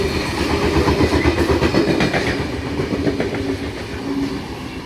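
A V set Gosford, Wyong or Newcastle interchange train, set V40, passes close by at Asquith, with a loud, steady rumble and rhythmic clickety-clack of wheels over rail joints, no voices.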